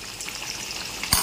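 Meat coated in spices frying in a pan, giving a brief, steady close sizzle that ends in a sharp clatter near the end, with no talk.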